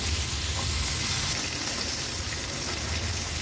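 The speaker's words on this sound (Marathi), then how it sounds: "आता मागची बाजू पण 1-2 मिनिटासाठी अशीच तळून घेऊया" Fresh fish frying in hot oil in a pan, a steady, even sizzle that holds close and continuous throughout, with no voices.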